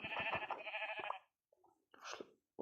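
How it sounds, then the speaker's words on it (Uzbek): A Minecraft sheep bleats in a wavering call lasting about a second, followed by brief soft game sounds and a second shorter bleat. "Qo'ylarni bir zarbada yoyib yuboryapman borku"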